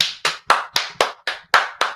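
Hands clap in a steady rhythm, about four sharp claps per second, loud and close with nothing else underneath.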